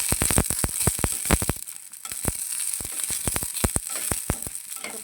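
Dried red chillies crackle and pop in hot oil in a pan, with a loud burst of sharp snaps at first that thins to scattered pops over a steady sizzle, cooked ahead of frying dried fish for a spicy mash.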